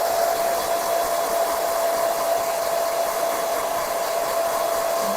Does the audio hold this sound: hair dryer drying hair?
yes